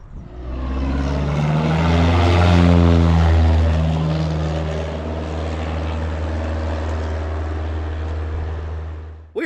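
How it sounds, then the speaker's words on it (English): A small propeller airplane passes overhead near an airstrip by a cabin in the Hope area of Alaska, its engine drone swelling loud and close, then fading slowly with a shifting pitch as it moves away. "There's an airstrip here very, very close to their cabin, and the airplanes fly over all the time."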